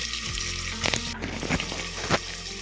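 Chillies and curry leaves fry in hot oil in a pan, giving a close, busy sizzle with sharp crackling pops and a few stirring scrapes.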